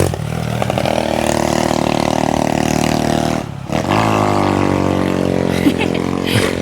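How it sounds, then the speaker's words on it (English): A motorcycle passes along a quiet country road in Aruba, its engine droning loud and steady as it goes by, dipping briefly before rising again as it moves away. "motorcycle to pass first"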